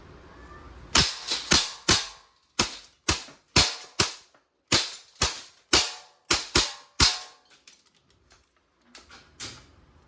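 Crosman AK1 blowback airgun fires semi-automatic, about a dozen sharp, loud, close cracks in an uneven rhythm with brief pauses, followed by softer mechanical clicks at the end.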